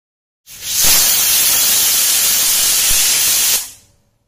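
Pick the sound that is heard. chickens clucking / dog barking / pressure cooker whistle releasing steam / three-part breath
pressure cooker whistle releasing steam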